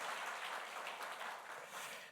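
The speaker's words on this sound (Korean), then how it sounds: "우리 하나님께도 영광의 박수고 우리 대원들에게도 격려의 박수, 축복의 박수 드립니다." Congregation at a Sunday church service clapping for the choir, a steady dense wash of applause that holds for about two seconds and fades slightly at the end, with no voices over it.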